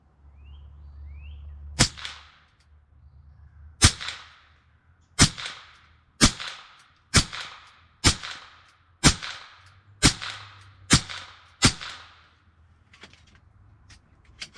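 An AEA HP SS .25 caliber air rifle fires Predator polymag pellets in ten sharp cracks, each followed by a short decaying ring, spaced about a second apart with a faint background hum between shots.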